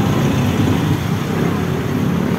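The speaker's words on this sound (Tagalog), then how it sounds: "Guys, traffic." Steady, loud road traffic drones on throughout, a dense rumble of cars, trucks and buses that never lets up, with the vehicles blending into one continuous roar and no clear individual pass-bys.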